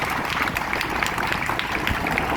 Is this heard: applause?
yes